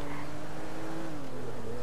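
A car driving in Grand Theft Auto V, with a steady engine drone and a sustained tonal hum that holds at an even level with no speech.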